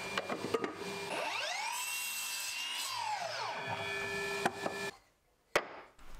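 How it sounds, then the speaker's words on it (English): Mahogany being cut with a miter saw: a loud, continuous saw whine rises and falls in pitch through one sustained cut lasting several seconds, then stops, followed by a brief clack. "I cut those away at the miter saw and trimmed them all to a consistent length"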